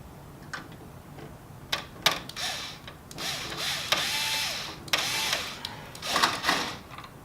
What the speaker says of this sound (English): If you're going to use an electric screwdriver,